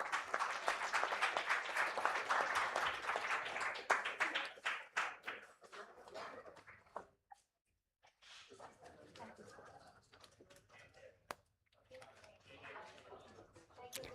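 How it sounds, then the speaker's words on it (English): Audience applause at a hypertension day medical talk, strong at first and tapering after about six seconds into scattered claps, with a brief silence and then a few quieter claps and faint room sounds. "A big round of applause."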